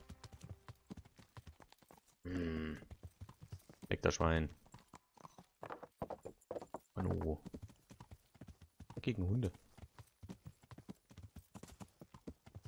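Rapid, rhythmic clip-clop of horse hooves at a steady trot in the video game Kingdom Come: Deliverance, with occasional whinnies and people talking over the galloping.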